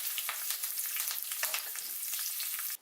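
Green chillies and curry leaves crackling in hot oil in a steady, busy sizzle with brief pops, close and moderately loud, cutting off abruptly at the end; no one speaks.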